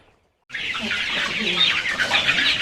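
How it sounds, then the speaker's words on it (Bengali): Farm chickens packed into a cage for transport cluck and chatter loudly and continuously at close range after a brief silent start. "এই যে দেখেন মুরগি এই যে খাঁচা আমরা করে ফেলছি"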